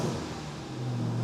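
A new Ford Ranger 4x4 engine revs through its stock exhaust, a close, deep, steady rumble held for about a second with no voices over it.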